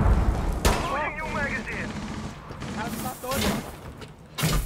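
Bursts of gunfire in a Rainbow Six Siege match, sharp shots and rattling volleys mixed with game sounds while players talk excitedly over them.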